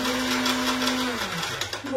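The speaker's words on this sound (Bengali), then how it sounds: "এটাকে গুঁড়ো করে নেব" An electric kitchen grinder pulverizes sweets into powder, a loud steady motor whine that drops in pitch as it winds down near the end, close and alone.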